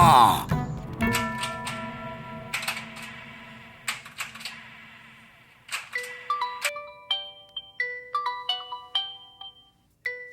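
A phone ringtone for an incoming call sounds in a Malayalam comedy movie scene, a bright repeating electronic melody of quick chiming notes, with a voice heard briefly at the start.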